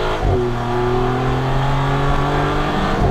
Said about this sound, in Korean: 이 6000rpm 넘어가면서 나오는 소리가 진짜입니다